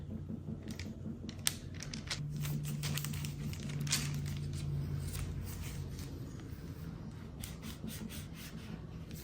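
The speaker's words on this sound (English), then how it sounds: "I'm just gonna use my mason jar's lid and just cut it." A mason jar lid presses and twists through soft sourdough English muffin dough, giving faint close scraping and rubbing scratches over a low steady hum.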